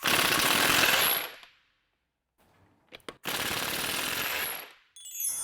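An impact wrench loosening car wheel nuts during a brake pad change rattles loudly in two sustained bursts separated by a pause, with a faint metallic clink between them and a third burst starting at the end.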